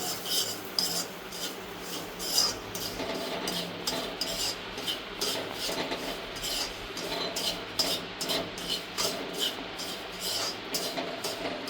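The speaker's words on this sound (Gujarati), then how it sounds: "ઘી નાખીને આપણે એને શેકી લઈશું" Semolina (rava) roasting in ghee in a pan, stirred steadily with a spoon for a sweet shiro, giving a continuous close scraping and rasping with repeated strokes against the metal and no talk.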